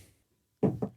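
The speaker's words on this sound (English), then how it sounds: "You hear a knocking on your door" A door is knocked on three times, firm close raps in quick succession after a moment of near silence.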